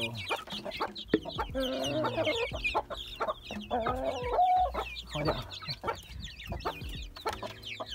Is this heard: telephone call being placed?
no